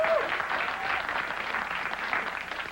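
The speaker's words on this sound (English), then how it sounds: "The people applauding are from Detroit." An audience at a late-night comedy monologue applauds steadily throughout, a dense wash of clapping with no voice over it.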